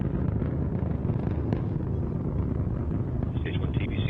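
Antares rocket engines at full 100% thrust during ascent, heard as a dense, steady, distant roar with a wind-like rumble and no speech over it.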